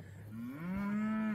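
Cattle moo in a pasture sown with sun hemp, one long rising low bellow that swells louder and holds steady, close by and alone with no talk.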